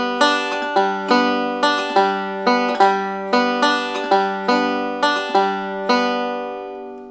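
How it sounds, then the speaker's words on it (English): Banjo playing a forward roll of eight-note groups, bright plucked notes ringing in a steady bouncing rhythm, close and clear with no talking. "An interesting thing happens with your banjo bounce when you play a forward roll."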